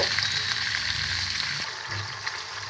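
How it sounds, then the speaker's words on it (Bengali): Ginger, garlic and cumin paste with turmeric sautéing in a pan, a steady close sizzle with no talking. "1 টেবিল চামচ পরিমাণ আদা বাটা, রসুন বাটা, জিরে বাটা দিয়ে এবং 1 চামচ পরিমাণ হলুদ গুঁড়া দিয়ে ভালো করে মশলাটাকে কষিয়ে নিব।"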